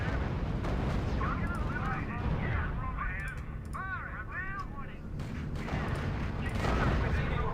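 Steady battlefield din in the R.U.S.E strategy game, with dense rolling artillery booms and crackling gunfire throughout. A voice talks over it and radio-style chirps and beeps rise above the noise.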